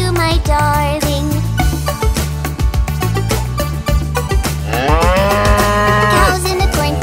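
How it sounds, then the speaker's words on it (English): A cow moos in a children's sing-along song, with long lowing calls over a loud bouncy backing of bass, drums and a jingling beat that carries the whole way through. "Cows in the cornfield, two by two."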